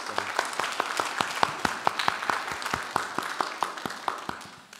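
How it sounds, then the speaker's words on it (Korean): A church congregation applauds with steady, rhythmic clapping that holds even and then fades slightly toward the end, heard from a moderate distance. "웰컴하고 박수 한번 하도록 하겠습니다"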